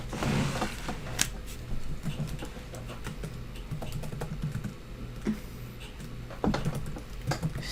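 Steady typing of code on a computer keyboard, quick irregular clicks of keys at close range with a low background hum, no talking.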